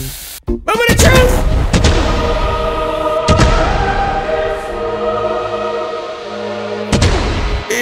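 Bombs packed into a house in a video game go off as a few loud, booming blasts with rumbling debris, one right after another early on, then a single hit in the middle and one more near the end.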